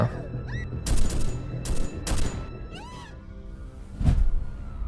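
A dramatized burst of rapid gunfire in several sharp cracking volleys, followed by a whooshing effect and a deep low boom, loud and close in a staged soundtrack.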